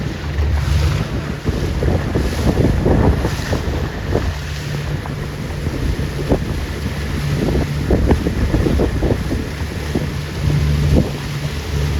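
Steady wind buffets the microphone aboard a 29er sailboat heading up North San Diego Bay in a northwest breeze, with water rushing against the hull throughout, loud and close.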